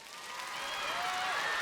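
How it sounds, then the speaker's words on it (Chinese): Audience applause in a TV music competition studio as singers are welcomed to the stage: a short, fairly soft wash of clapping that swells slightly, with a thin musical tone sweeping underneath. "让我们掌声欢迎"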